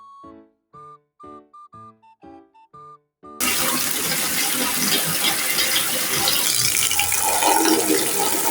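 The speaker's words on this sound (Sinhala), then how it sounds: "ටැංක් දෙකට වතුර පුරවගමු" A tap pours water into two tanks while a fish pond is being cleaned. A short run of electronic beeps comes first, then a loud, steady rushing gush that carries on to the end.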